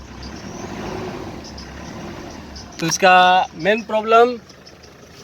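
A car engine idling after finally starting following a relay fault, a low steady hum in the background that a man's close-up talking soon covers.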